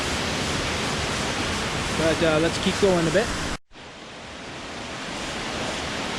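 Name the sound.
waterfall on Vancouver Island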